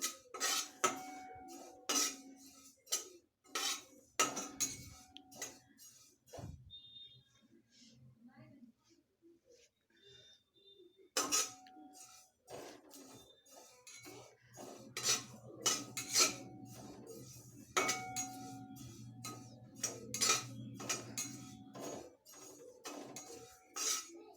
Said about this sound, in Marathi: दोन मिनिट भाजायचे आहेत तीळ